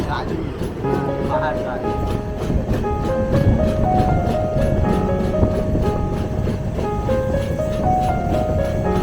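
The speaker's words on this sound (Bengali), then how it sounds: "এর মধ্যে দিয়েই ট্রেন চলেছে।" A train rolls slowly through the forest of Gorumara National Park, giving a loud, continuous rumble with steady rail clatter and a droning tone throughout.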